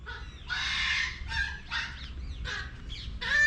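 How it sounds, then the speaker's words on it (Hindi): Small puppies inside an old brick tomb yelp and whimper in a quick series of high cries, close and fairly loud, echoing slightly in the enclosed space. "अंदर छोटे छोटे पिल्ले हैं"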